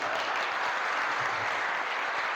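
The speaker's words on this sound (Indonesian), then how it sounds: "Boleh tepuk tangan buat Bapak." Steady applause from a seminar audience for a participant called to the front at a leadership session, dense and continuous throughout with no talk over it.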